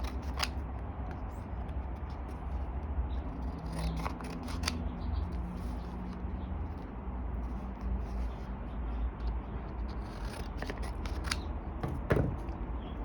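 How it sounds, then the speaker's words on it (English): Scissors snipping through watercolor paper, dividing a painted sheet into four quadrants; quiet, close, intermittent crisp cuts over a soft steady background, no talking. "I have another watercolor right here that I'm also going to cut"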